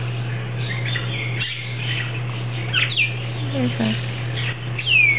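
Several birds in Hawaii chirp and whistle in short, rising and falling calls nearby, scattered over a steady low hum, while a person speaks briefly.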